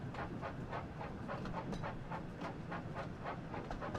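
A train rolls along the track in a railway video game, with a steady, rhythmic clickety-clack of wheels over rail joints under a low rumble at moderate volume and no talking.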